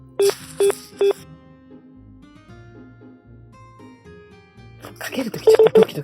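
A telephone is dialed to place a call. Three short, evenly spaced keypad tones ring out clearly, a low murmur fills the pause, and then another quick cluster of dialing beeps follows.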